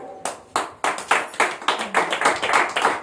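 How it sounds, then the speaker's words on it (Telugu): A crowd applauds loudly after a call to clap hard, a dense burst of hand claps that starts suddenly and keeps going with rhythmic swells, close and filling the room. "గట్టిగా చప్పట్లు కొట్టండి"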